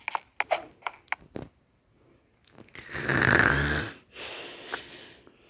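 A person lying in bed snores with one loud, rasping snore in the middle, framed by scattered clicks and softer breathy noises before and after.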